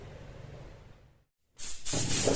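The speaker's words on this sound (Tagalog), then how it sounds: "So bubugaan ko po na to, mga 2 coats lang po ng white." White urethane undercoat sprayed onto a bike frame, a loud, steady airbrush-like hiss that starts abruptly after a short silence and continues in a couple of bursts.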